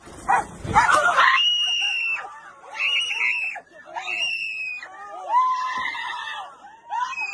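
Dogs set loose on a crowd of people bark and yelp repeatedly amid shrill human screams and shouting, a chaotic, loud outdoor scene with overlapping cries throughout.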